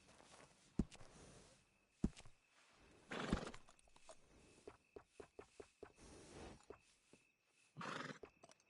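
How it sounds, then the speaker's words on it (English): A horse in the Red Dead Redemption 2 video game snorts and whinnies in a few short bursts while hooves clop in a loose walking rhythm, fairly close and quiet. "That horse doing all right?"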